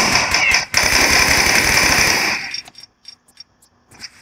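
Enemy gunfire in Tomb Raider 3 crackles as a rapid automatic burst, then sharp separate shots, with someone speaking German over the game sounds.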